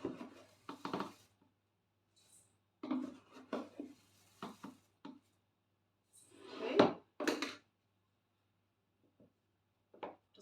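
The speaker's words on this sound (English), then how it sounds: "Just mix these dry ingredients together" A spoon scrapes and clinks through dry ingredients and rolled oats in a mixing bowl, in short irregular bursts separated by near silence, close and fairly soft.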